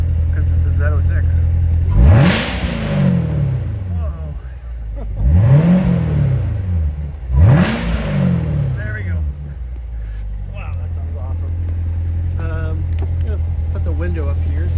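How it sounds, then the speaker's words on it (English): Supercharged 650 hp 2019 Corvette Z06 in Torch Red, revved three times in quick succession from a steady idle, each blip rising sharply and falling away, close and loud, then settling back to idle. "give it a couple revs because this is Z06"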